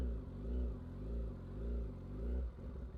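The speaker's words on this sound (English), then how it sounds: "And then when you actually want to take off, just a touch of throttle." Motorcycle engine idling close by, rising and falling in slow rhythmic surges as the throttle is lightly blipped, a low deep rumble with no talk.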